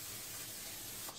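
Non-stick cooking spray misted into the basket of a GoWISE USA digital air fryer: a brief, soft, continuous aerosol hiss lasting about a second, close but quiet, with no speech.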